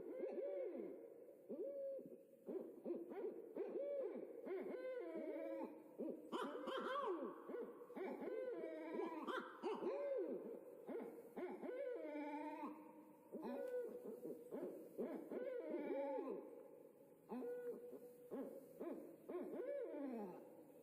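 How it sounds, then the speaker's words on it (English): Barred owls caterwaul in Sarasota woods, a chaotic run of loud, wavering hoots, cackles and yowls from several birds overlapping in bursts with brief pauses, fairly close and clear. "that's the noise they make when they're trying to scare off other barred owls"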